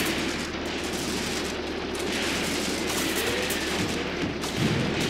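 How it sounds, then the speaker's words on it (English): Artillery fire in the World War II tactics game Graviteam Tactics: Mius Front, a dense rolling barrage of distant booms and shots, continuous and fairly loud, without talk. "we've got actually some artillery coming in"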